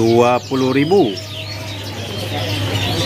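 A bright-coloured male canary for sale gives a short burst of loud, close chirping calls at the start, then falls quiet over a steady background hum.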